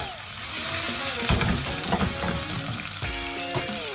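Rehydrated dried shiitake mushrooms sauté in a hot pan with a steady, close sizzle and bursts of stirring and scraping. Brief bits of talk sit underneath.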